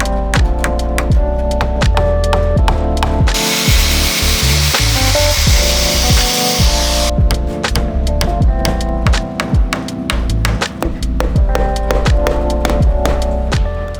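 A power tool cuts through heavy, sturdy wire mesh for a backyard chicken coop, a loud continuous grinding roar that runs nearly the whole length, with a brief harsher, higher-pitched stretch partway through.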